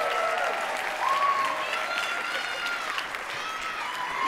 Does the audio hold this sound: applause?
yes